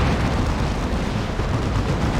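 Explosions and battle noise from a hit on a Chaos Predator tank in the strategy game Dawn of War 2, a dense, continuous low rumble filling the whole stretch at steady loudness.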